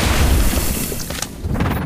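Expulso blasting spell cast in the Harry Potter: Magic Awakened video game, a deep booming blast with crashing rumble that swells and fades over about two seconds, loud and close with no talking.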